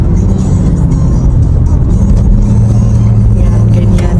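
Steady car traffic on a Philippine road, a continuous low engine rumble and whir from nearby vehicles, with a voice murmuring faintly under it.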